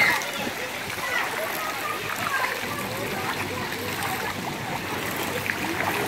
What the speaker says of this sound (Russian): показывает мастер-класс по нырянию